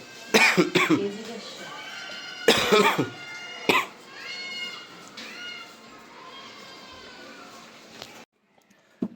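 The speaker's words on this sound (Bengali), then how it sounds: "খুশখুশ কাশি চলে আসছে এই কারণে একটু ক্লিয়ার হইলাম" A person coughs in sharp bursts and clears the throat several times up close, with short pauses between the fits and a quiet room behind, then silence at the end.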